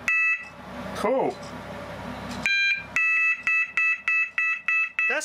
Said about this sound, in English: That sounds kind of like the buzzer on Photonic Induction's switchboard